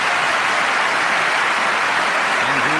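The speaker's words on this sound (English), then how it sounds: "Hollywood applauding a Republican" A Hollywood audience applauds, a dense, steady wash of many hands clapping together that holds evenly for a few seconds with no voices.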